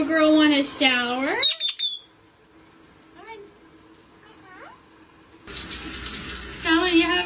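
Water runs from a tap as a pet parrot gets a shower indoors, a loud close rush that stops for a few seconds and then starts again, with a person talking and bird calls throughout.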